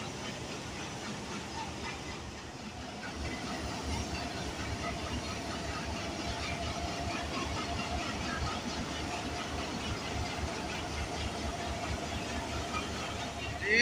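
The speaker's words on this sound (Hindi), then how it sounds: "रहमान बाबा एक्सप्रेस 48 डाउन रावलपिंडी से रवाना हो रही है फैसलाबाद और कराची के लिए" The Rehman Baba Express 48 Down passenger train departs Rawalpindi station in Pakistan, rumbling and clattering steadily with a rhythmic wheel beat and hissing, a continuous moderate roar that builds slightly toward the end.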